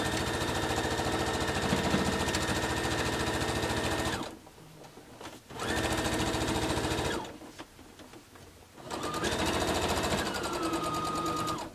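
A sewing machine runs close and loud, stitching a T-shirt quilt seam in rapid steady bursts with two short pauses between runs.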